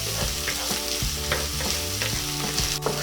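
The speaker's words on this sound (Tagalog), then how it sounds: "ilalagay na po natin itong ating sibuyas. Tapos haluin lang natin hanggang lumambot yung ating sibuyas." Onions sautéing in a hot pan as they are stirred for ginataang hipon with kalabasa, a loud, steady sizzle with scraping strokes throughout and faint tonal sounds in the background.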